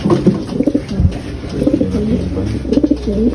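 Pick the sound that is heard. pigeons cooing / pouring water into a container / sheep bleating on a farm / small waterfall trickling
pigeons cooing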